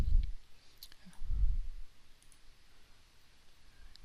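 Mouse double-click during Adobe Photoshop work on a web banner design: two quick, faint clicks close together near the start, with soft low thumps and a quiet background around them.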